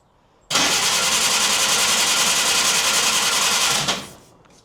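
A 1950 Willys M38 engine, started for the first time in 15 years with choke and starting fluid, catches and runs with a loud, steady, even drone for about three seconds before cutting off, close and alone.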